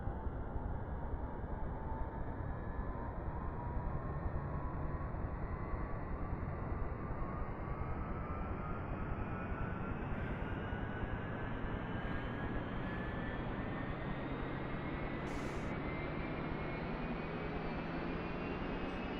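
In the DCS flight simulator, a Huey helicopter's turbine starts up with a steady rising whine and roar that climbs in pitch across about twenty seconds, loud and continuous with no talk.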